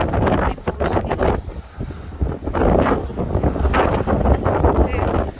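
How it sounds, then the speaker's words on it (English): Strong coastal wind near Bluff, New Zealand roars and buffets the microphone in gusts, loud and close, with people talking intermittently beneath it. "Very windy today."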